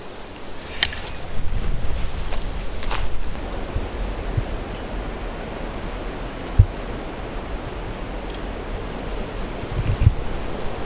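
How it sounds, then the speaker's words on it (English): Strong wilderness wind roars against the microphone in uneven gusts, with rumbling buffeting and a few brief knocks and clicks. "Trying to show you the winds here. Pretty brutal today. Comes through in gusts."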